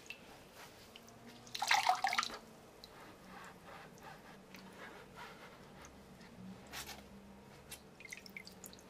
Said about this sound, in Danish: Og så kører jeg nedenunder for at tage det værste vand væk.